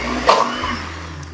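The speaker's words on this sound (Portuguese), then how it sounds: "eu já dei uma batida e tava ajudando o liquidificador" A blender whirs steadily nearby while blending chickpeas, its motor dipping briefly then settling back into a continuous grinding hum.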